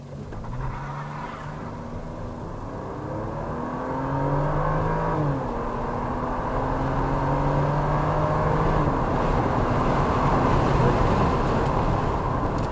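A car driving through a chicane on a racetrack, its engine note rising and falling as it shifts and accelerates, loud and close from the cabin with road and wind noise building.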